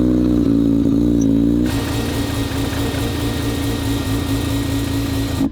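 A rotary-engine car with an Apexi N1 dual exhaust rumbles close by with a deep, bassy idle that rises into a louder, raspier rev and holds steady until cutting off abruptly.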